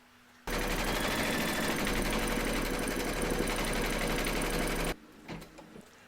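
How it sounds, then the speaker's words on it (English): An embroidery machine stitches a placement outline on fabric in the hoop for an in-the-hoop glasses case, a loud, steady rapid mechanical clatter running for about four and a half seconds, then stopping abruptly into quiet handling noises. "pop your hoop into your machine and stitch round number 1"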